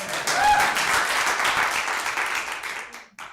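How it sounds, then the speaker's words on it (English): A theater audience claps hands in a sustained, dense burst of applause at a performance festival, loud and steady before thinning out toward the end. "If that's true for anybody else, please clap your hands."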